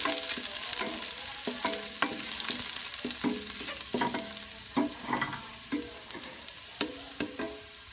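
Garlic sizzles in hot oil in a pan while a utensil stirs it, a constant frying hiss broken by repeated clinks and scrapes as the garlic is tossed, close and moderately quiet.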